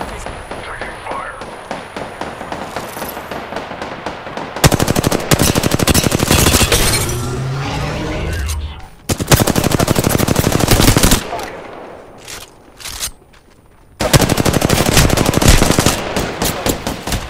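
Rapid automatic gunfire from Apex Legends rattles in long loud bursts separated by brief pauses, with a player talking in the gaps.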